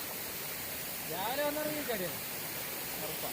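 An isolated waterfall deep in a forest gives a constant, hissing rush of falling water, with a brief voice rising over the roar midway.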